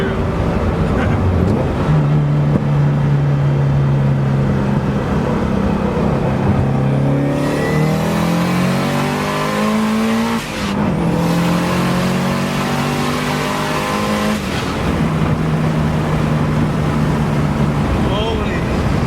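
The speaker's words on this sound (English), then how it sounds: "here comes the Camaro" A Chevrolet Camaro drives past, its engine note rising and sweeping through a loud pass-by with shifting revs, mixed with other engine drone and voices around.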